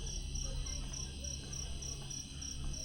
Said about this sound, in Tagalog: yung mga kuliglig, yung mga kulisap. Yan, nature sounds lahat.